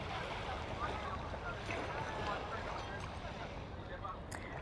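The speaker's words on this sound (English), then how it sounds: "You love the sound of the water?" Sea water laps in St Tropez harbour as a steady, broad wash of splashing and gurgling, with no distinct breaks and faint background activity.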